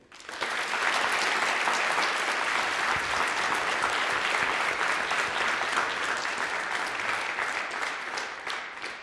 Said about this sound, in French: On peut d'ores et déjà les applaudir.